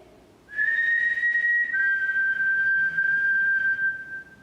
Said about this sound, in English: if you've been making noises, whistling noises, can you do it again?